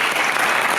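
Dense, loud applause fills a conference hall in Berlin as an audience claps steadily for Thailand, close and unbroken throughout.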